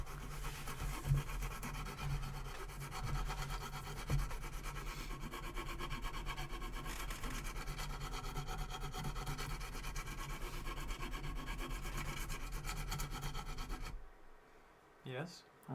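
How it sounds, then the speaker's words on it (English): Steady rubbing and scratching of sanding through primer on a surface, continuous and close for most of the stretch before stopping abruptly near the end, with faint talk in the background. "Sanded through my primer"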